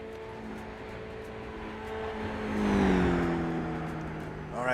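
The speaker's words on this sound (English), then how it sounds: "I can hear some more cars coming." Racing cars in the rFactor 2 sim on the Targa Florio road course, engines whining as they approach, with rising pitch and a swelling roar around the midpoint before easing slightly, no talk over it.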